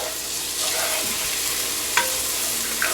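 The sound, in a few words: ginger garlic paste frying with onions for goat curry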